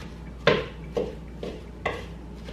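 A chickpea burger mixture is stirred in a bowl with four soft, spaced scraping strokes, close and moderately loud, with no voices.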